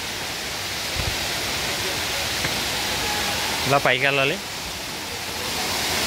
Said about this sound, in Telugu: వాటర్ ఫాల్స్ నుండి వాటర్ చూసారు కదా ఏ విధంగా కారుతుందో